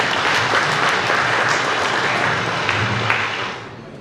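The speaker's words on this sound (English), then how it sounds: "give yourselves a very big clap for that." Audience applause at the ESD Awards 2022 ceremony, a loud, dense wash of clapping from a large crowd that holds steady and then fades toward the end.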